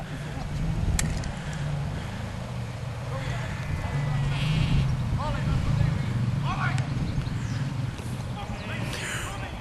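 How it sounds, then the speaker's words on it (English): Sheep bleat a few times in the open Yorkshire Dales countryside near Cray and Hubberholme as a farmer herds them, the calls brief and fairly distant over a steady outdoor rumble. "we've got farmer there herding sheep"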